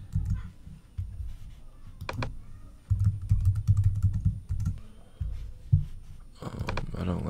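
Steady typing on a computer keyboard while entering an email address and password, with bursts of key clicks pausing and resuming as a person talks over much of it.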